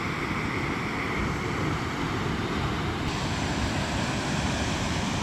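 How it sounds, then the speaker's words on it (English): A steady, unbroken rushing roar of Piney Falls at Fall Creek Falls State Park, dense and constant throughout, with no voices. "I could stand here all day long and watch that waterfall."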